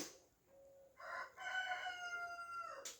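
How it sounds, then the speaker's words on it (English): A cockerel crows in the morning, one long drawn-out cock-a-doodle-doo that starts with a short opening note and then swells into a loud, sustained call heard close by. "Yeah, morning cockerel."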